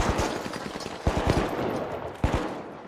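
Short bursts of automatic gunfire in the video game The Finals, three separate quick taps of several shots each, loud and close, with no talk over them.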